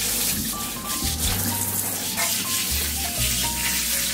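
Water runs from a sprayer, rinsing leave-in conditioner out of a dog's coat during a bath, making a close, steady gushing splash over a low pump-like hum that shifts in level.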